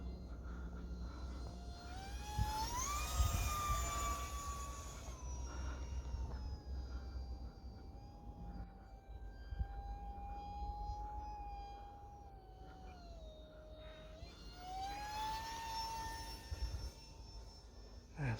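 UMX Viper 30mm micro RC jet on a 4S battery flying at under half throttle, a faint distant whining ducted-fan tone that swells and drops in pitch as it passes overhead and away.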